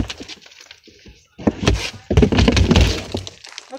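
A person curled inside a trash can tumbles down a staircase, heavy hollow thuds and crashing impacts building into a loud clattering burst after a quieter start.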